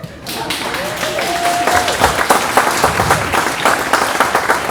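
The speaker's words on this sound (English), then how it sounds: "Please clap for him." Guests at a family gathering break into loud, close applause, a dense flurry of clapping that swells after a brief voice at the start.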